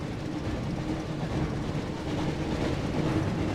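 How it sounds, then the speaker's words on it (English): Hogwarts Express train in the PS1 game Harry Potter and the Chamber of Secrets, a continuous loud rumbling rush of a moving train with a steady low roar and no voices. "Looks like we found the train, Ron."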